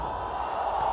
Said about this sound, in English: The crowd making plenty of noise here.